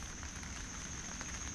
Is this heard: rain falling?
yes